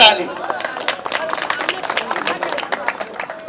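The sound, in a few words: crowd applause at a rally at Jantar Mantar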